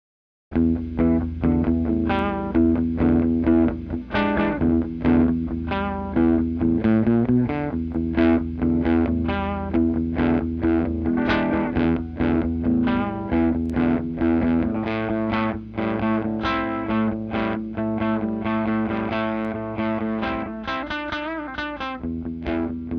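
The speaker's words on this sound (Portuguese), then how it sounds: "é o drive do próprio amplificador, tá? A distorção dele lá" Electric guitar played through the amplifier's own drive distortion, a dense run of loud, steady, driven chords and notes with no talk.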